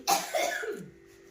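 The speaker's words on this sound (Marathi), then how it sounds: "आईंचा प्रवासाचा परिणाम खोकला" A single sharp cough close to the microphone, a quick double burst trailing into a throaty tail, followed by near silence.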